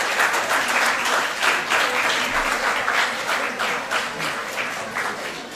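A hall audience claps for a runner-up at a student abacus competition award and graduation ceremony, steady crowd applause filling the room, moderately loud and continuous throughout.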